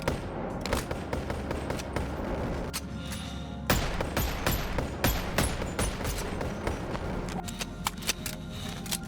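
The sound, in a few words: gunfire in the VR video game Boneworks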